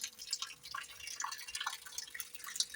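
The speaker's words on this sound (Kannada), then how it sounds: "ಮಳೆ ಬರ್ತಾ ಇತ್ತು ಫ್ರೆಂಡ್ಸ್, ನೋಡಿ ನೀರು" Rainwater drips in quick, irregular, faint plinks against a soft wash of water, with no one speaking.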